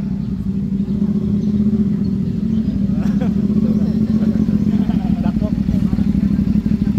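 A motorbike pulls off and brakes up front during a riding-safety demonstration, its engine a steady close rumble throughout, with someone speaking over it.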